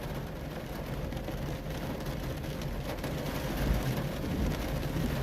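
Continuous heavy rain pouring down over Birkenhead Bridge in Port Adelaide, a thick steady hiss that swells slightly toward the end, with no talking.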